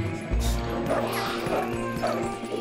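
A dog barks repeatedly in Zelda: Twilight Princess HD, with short yips and whimpers over steady game music and effects.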